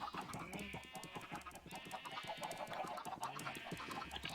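A crowd of Minecraft chickens clucking over one another in rapid, overlapping bursts, busy and fairly close, with no voices.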